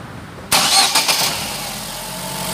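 A 2009 Chevrolet Prisma 1.4 with exhaust misfire trouble starts up: a sudden loud crank-and-catch burst, a couple of quick surges, then the engine settles into a steady close idle.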